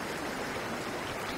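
Creek water flowing around a rock pile, a steady close rushing wash with no variation and no voices over it.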